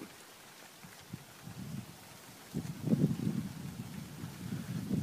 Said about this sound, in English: Rain's coming hard though across the hill